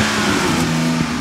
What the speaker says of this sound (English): It's a diesel engine, so you know you gotta.